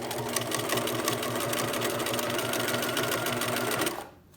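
A sewing machine stitching a fabric face mask, a fast steady mechanical whir with a regular rhythmic pulse of the needle, close and loud, running for about four seconds and then stopping abruptly.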